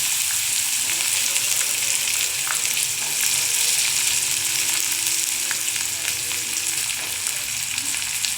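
Chopped onion frying in hot oil for upma, a continuous loud sizzle with occasional light scraping and stirring, with no voices over it.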